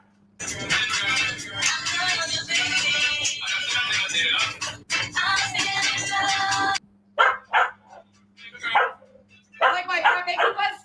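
A dog barks and yips repeatedly in bursts while people talk over and around it, with a short lull before the barking resumes.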